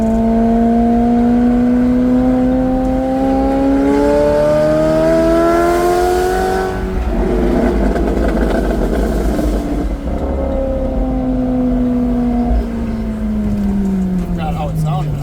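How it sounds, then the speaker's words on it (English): A 1000 hp McLaren 750S engine revs hard, its pitch climbing and falling in sweeping pulls with a crackling burst of backfires in the middle, loud and close. "those backfires are just insane"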